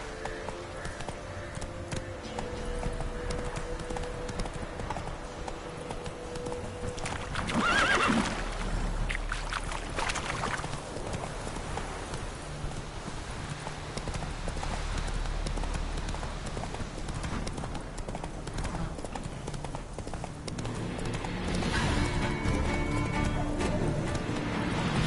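Roach the horse gallops in The Witcher 3, steady clip-clop hoofbeats running throughout with occasional neighs and whinnies, joined by brief bursts of game sound and light ambience.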